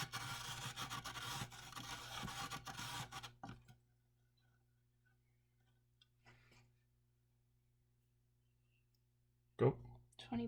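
A solution is stirred in a container during an endothermic and exothermic reaction lab, giving a steady raspy scraping that runs for about three seconds and then stops. Brief faint noises follow before one sharp knock near the end.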